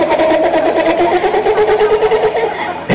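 A man imitates an old car's engine starting in Shah Rukh Khan's style, a steady droning vocal rumble that ends abruptly, with a live audience in the background.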